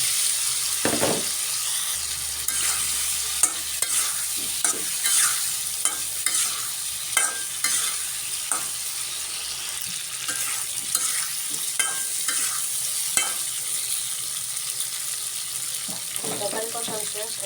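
Spice paste with coriander powder and salt is stirred and fried in a pan, giving a steady close sizzle broken by repeated scraping, clinking utensil strokes.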